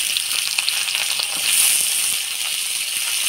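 Eggplant pieces frying in spiced oil with potato, a steady close sizzle with a broad hissing wash and small crackles throughout, briefly swelling louder midway, no talk.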